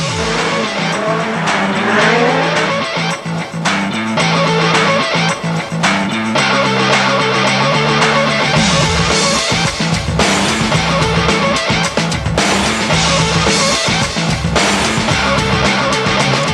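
Peugeot 205 T16 rally cars racing on a stage, loud engines revving and shifting through gears with skidding tires, near and continuous throughout.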